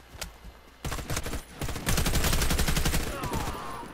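Video game gunfire: a few scattered shots, then a loud sustained volley of rapid automatic fire that rattles on without a break for about two seconds.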